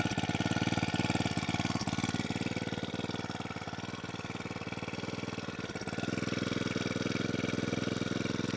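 Small petrol engine idling as it warms up, a steady, close, rapid knocking putter that holds a constant rhythm throughout with a slight dip and recovery in level, no voices.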